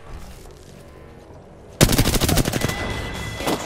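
Video game gunfire breaks out suddenly after a quiet stretch: loud, rapid automatic bursts of shots rattling continuously close by until the end.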